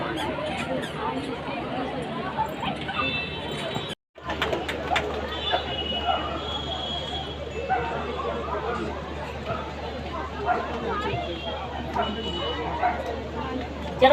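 Small toy-breed dogs yip and bark intermittently in a noisy outdoor dog and cat show at an island tourism festival, mixed into steady crowd chatter and nearby voices throughout.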